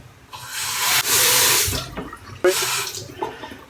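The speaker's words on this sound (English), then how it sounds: "Rinse the razor one more time" Razor rinsed under a running bathroom tap, a loud rushing stream of water with splashing as the blade passes through, the flow surging and easing twice before trailing off.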